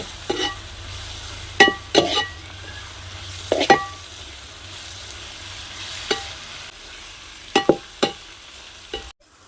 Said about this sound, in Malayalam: പൊടികളിട്ട് മിക്സ് ചെയ്യുന്നു. പൊടികളെല്ലാം ഒന്ന് ചൂടാട്ട്.